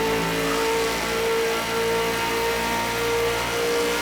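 Race car engine held at full throttle in Project Cars 2 along Conrod Straight at Bathurst, a steady continuous drone with sustained harmonic whine and no talk over it.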